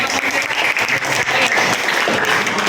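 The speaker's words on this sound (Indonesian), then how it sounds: "Oke, tepuk tangan dong." A group bursts into loud, dense clapping that holds steady and even from start to finish, close and full, with no pauses between claps.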